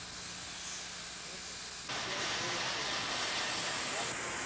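Union Pacific steam locomotive, 3985 or 8444, fired up at Cheyenne, Wyoming, venting a steady broadband hiss of steam that jumps louder partway through and holds, with faint background noise.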